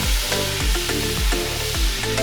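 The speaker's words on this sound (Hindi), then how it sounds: "गार्लिक थोड़ी सी फ्राई होंगे, मैंने ग्रीन चिली एंड टमाटर डाल।" Garlic, green chili and tomato fry in a pan, giving a steady close sizzle with a few rhythmic stirring scrapes and clatters, no voices.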